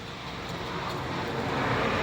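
On a quiet prairie road in Provost, a car passes at a distance, a broad steady whoosh that slowly swells in loudness across the stretch with no one talking.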